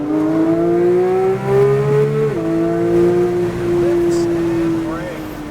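A Porsche 911 GT3 accelerating on a race track, its engine note rising in a loud, close drone, then dropping at a shift and climbing again, while someone talks over it.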